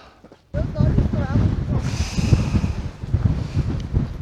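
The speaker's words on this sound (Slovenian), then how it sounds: "Pa veter je" Strong wind buffets the microphone high in the Slovenian mountains near a mountain hut above the Krma valley, a loud, rough continuous roar with gusts, while a person speaks over it throughout.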